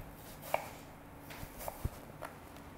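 Knife slicing straight down through stacked apple planks to cut matchsticks, a few separate crisp cuts and a sharp thud on the board, close and fairly quiet.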